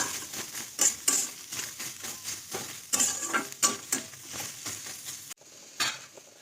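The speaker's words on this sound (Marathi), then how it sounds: "मी कांदा असाच बिना तेलाचाच भाजून घेणार आहे काळपट होईपर्यंत" Onion dry-roasts without oil in a kadhai, a close, dry crackle broken by repeated scraping stirs of a spoon against the metal, with no talking.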